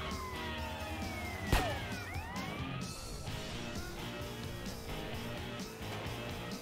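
Police siren from the video game GTA San Andreas: Definitive Edition, with wailing, swooping tones and a sharp impact near the start over a continuous dense game soundscape, loud and steady throughout.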